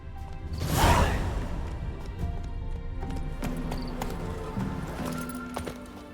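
Roach, the horse in The Witcher 3 video game, gallops with quick clip-clopping hoofbeats and a brief whoosh near the start, backed by a steady music bed and game ambience.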